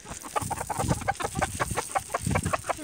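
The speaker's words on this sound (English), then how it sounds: "That one's a rooster, the big one." A rooster clucks in rapid, repeated bursts close by, a busy run of short throaty calls.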